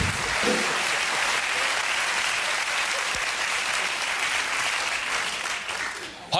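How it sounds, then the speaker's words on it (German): Studio audience applause on a German late-night TV show, a loud, dense sustained round of clapping that holds steady and then thins and drops toward the end. "Applaus wird wieder schwächer."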